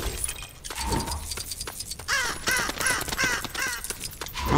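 A crow in the Lego Lord of the Rings video game caws repeatedly in a run of harsh calls, mixed with crisp game effects like shattering glass and clinks, loud and close.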